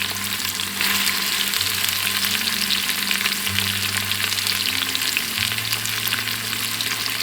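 Onions frying in a pot for a one-pot mutton curry, a steady dense sizzle with occasional stirring, close and continuous throughout with no talk.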